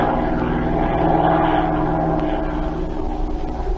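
A propeller airplane engine drones steadily in flight for a radio drama effect, a continuous low throbbing hum with rich harmonic layers that stays loud and even, with no speech over it.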